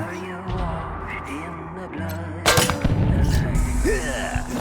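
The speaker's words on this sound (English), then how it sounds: "My bullets are spitting!" Gunfire in Wasteland 3 breaks out partway through, a dense burst of loud shots over a steady background music bed, continuing in rapid clustered volleys to the end.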